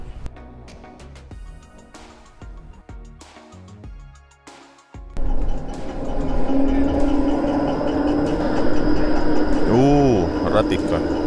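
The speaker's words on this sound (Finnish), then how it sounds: "Ratikka." A tram passes along a city street in Tampere, Finland, its low rumble and rail noise swelling loudly after a quieter stretch and holding steady to the end, with a tonal whine near the close.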